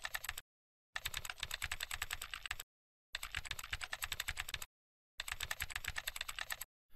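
Fingers tap out bursts of quick, even keystrokes on a computer keyboard, three runs of close clicking separated by short silent gaps.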